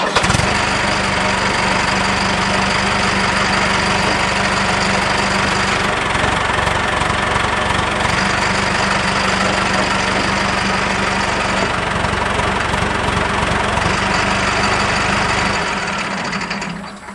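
A Mahindra tractor diesel engine running steadily close by, a loud continuous chugging drone that holds for about seventeen seconds with slight shifts in tone, then eases off at the end.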